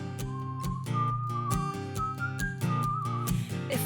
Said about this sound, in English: Can you whistle in space?